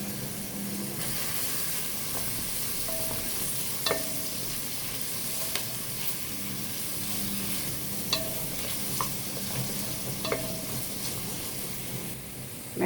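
Ginger and garlic sizzle steadily in a frying pan for fish, a constant hiss with occasional sharp spatula clicks and scrapes, close and even.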